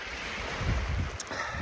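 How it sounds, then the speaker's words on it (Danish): Sea waves washing onto the beach at Arnager on Bornholm, a low rolling surf mixed with wind buffeting the microphone, moderately loud and continuous, with no voices. "Også det her med at lytte til bølgerne"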